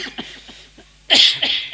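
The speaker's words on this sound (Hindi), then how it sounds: "लेकिन थोड़ी सी खांसी है" A slight cough bursts out near the end, close and fairly loud, after a moment of quiet breathing and small mouth sounds indoors during a spiritual talk.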